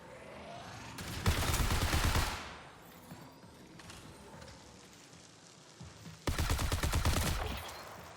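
Two long bursts of rapid fire from the Ares railgun in the shooter game Marathon, each about a second of dense crackling shots, separated by quieter ambient game noise.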